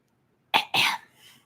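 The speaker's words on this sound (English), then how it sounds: "I had to clear my throat just to listen." A single close throat clearing, two short rough bursts of a cough-like sound followed by a faint exhale, otherwise silent.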